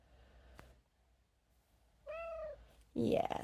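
A cat gives one clear, rising meow at moderate volume, then a louder, rougher vocal burst follows near the end. Quiet background noise and a brief click come before it.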